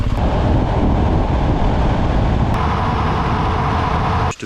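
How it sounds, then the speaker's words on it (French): Strong, steady wind roars across the microphone during motorcycle transport, a dense continuous buffeting rumble that holds loud throughout before cutting off abruptly at the end. "D'autant plus qu'il y avait énormément de vent."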